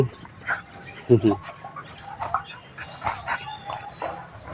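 Small dogs playing together at a temple in Nan, with brief yips and whimpers scattered among other noises and a sharp burst near the start, heard under occasional talk.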